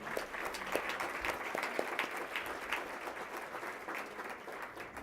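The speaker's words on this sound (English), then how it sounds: "please join me with a round of applause for our speakers tonight" An audience at a business breakfast event applauds speakers, a dense, steady round of clapping from many hands that holds at an even level throughout.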